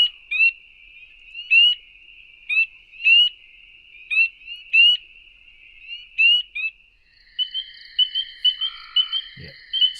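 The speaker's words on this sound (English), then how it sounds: "number 9 is another one that we look forward to hearing in the spring. Thus its name, the spring peeper." Spring peeper frogs call in clear, high, piercing peeps, repeated at a regular rhythm and moderately close, with a second overlapping chorus of calls joining toward the end.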